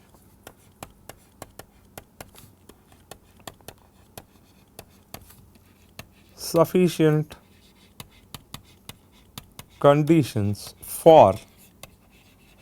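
Chalk or pen writing during a mathematics lecture on constrained optimization, sharp regular taps and short strokes repeating close by, with someone speaking briefly between them.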